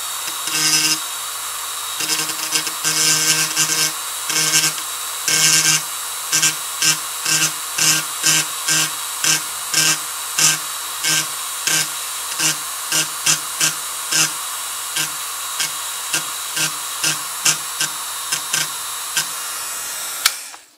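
A handheld rotary tool burnishes a cut copper track on a keyboard circuit board, first as a steady whine, then in a long run of short, regular bursts, loud and close, with no talk.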